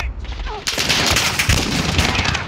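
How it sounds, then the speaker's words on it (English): Rapid bursts of automatic gunfire from a Call of Duty Modern Warfare match, loud and dense after a brief quieter lead-in, with overlapping shots filling the scene and faint voice chatter underneath. "Taking enemy fire over here."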